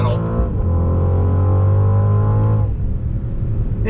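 A 2021 Mercedes-AMG GLE 63 S SUV accelerates on throttle with a loud, rising engine drone heard from inside the cabin, easing off near the end; brief talk sits under the engine.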